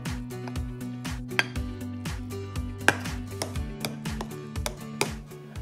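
Apple being chopped into small pieces for oatmeal apple pancakes, a steady run of close knife taps on a cutting board, some louder, with a faint low hum beneath and no talk.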